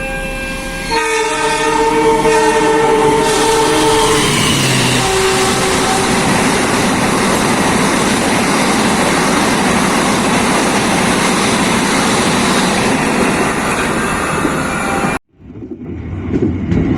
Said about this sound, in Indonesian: Ini dia KA Argo Lawu dari Solo Balapan dengan tujuan Gambir.